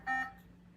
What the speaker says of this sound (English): it will alarm